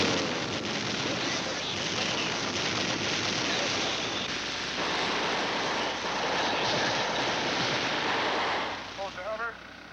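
Fighter planes flying during a Vietnam War helicopter rescue, a sustained roaring engine rumble building and shifting over ten seconds beneath a narrator's voice, fading near the end.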